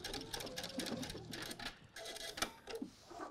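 A sewing machine stitching a bar tack on a fly front zipper, rapid close rattling needle bursts in quick irregular runs, fairly quiet with no talking.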